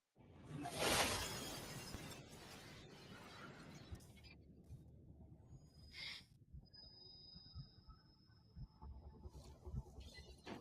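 Glass windows burst apart during a lightsaber duel battle in The Clone Wars, a loud crash followed by scattered tinkling shards and faint hums fading under a quiet background.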